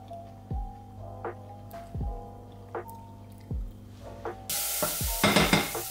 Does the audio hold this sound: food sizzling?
yes